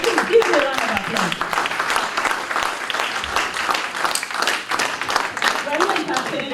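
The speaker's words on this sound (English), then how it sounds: "give me a round of applause" Audience applause at an aviation careers conference, a dense patter of clapping from a crowd that holds steady and fairly loud throughout.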